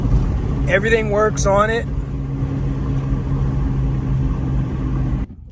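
Interior of a rebuilt salvage-title car on the road, a low steady engine and road rumble running throughout under a brief spoken remark near the start, cutting off abruptly at the end.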